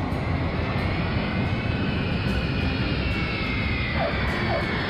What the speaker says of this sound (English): The aeroplane has lowered its landing gear, which means it's going to land.